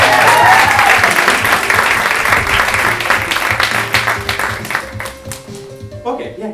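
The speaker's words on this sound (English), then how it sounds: "And keep that applause going for our next guest, Jake" A studio audience at a talk show applauds a guest, heavy and continuous at first, then thinning into scattered claps, with a host's voice coming in near the end.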